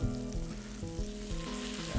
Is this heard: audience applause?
no